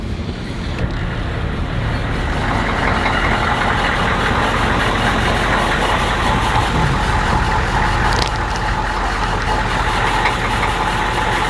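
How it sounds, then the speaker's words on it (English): Humvee engine idling while it warms up, a loud, steady, close diesel rumble that drones evenly throughout with no talking. "Got it all running, warming up for me."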